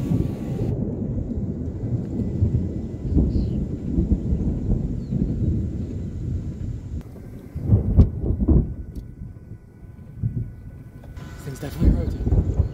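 Low rumbling thunder rolls from a rotating supercell thunderstorm in western Pennsylvania, a steady grumble with a few sharper cracks near the end, heard under wind and vehicle noise.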